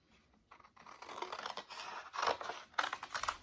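Scissors snipping through paper to cut out heart templates for a Valentine's craft project, a quick series of close, crisp cuts and rustles with brief pauses between strokes.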